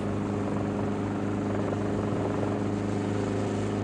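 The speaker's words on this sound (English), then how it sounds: "The helicopter pulls away after the darting to avoid driving the rhino to exhaustion" A helicopter thrums steadily overhead while darting rhinos in southern Africa, its rotor beat constant and loud throughout, with no voices.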